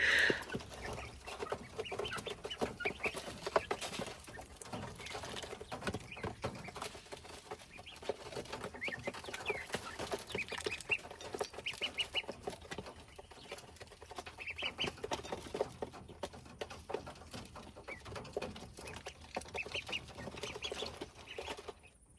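A flock of chickens clucks continuously for a long stretch, a busy, steady chorus of overlapping clucks with no talking.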